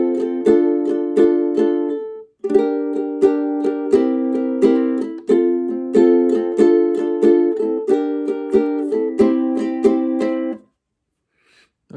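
Ukulele strumming a chord progression at a slow, even pace, bright steady strums with a short pause partway, played alone and close.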